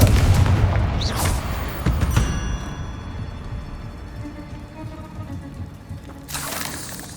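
Fire spell blasts in the Hogwarts Legacy game, a loud booming burst at the start followed by a second blast, then a long rumbling decay with a fresh crackling burst near the end.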